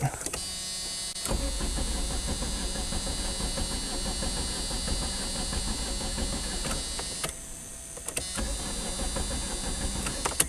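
An abandoned Dodge Omni, unstarted for 15 years, cranks over with a steady, loud whirring starter drone that runs almost continuously, broken by brief pauses.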